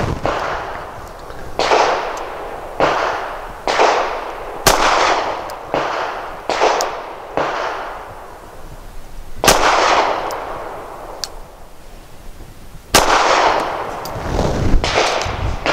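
A Sig P365 XL pistol fires Hornady Steel Match 125-grain hollow points at a range, about a dozen sharp, loud reports in irregular bursts, each followed by a short echoing decay, with no talking.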